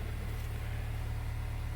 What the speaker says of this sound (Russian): Надо, короче, подождать, пусть поработает на холостом ходу.